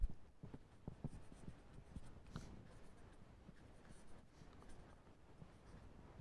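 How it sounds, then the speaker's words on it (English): A pen scratches across a writing surface during a lecture on thermionic generation. A faint, continuous scratching goes on with small strokes and pauses, and no voice is heard. "let me write it down"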